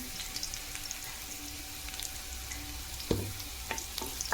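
Ginger and asafoetida frying in a pan for a soybean paneer and capsicum curry, a soft continuous sizzle with a few stirring knocks near the end, close by and fairly quiet.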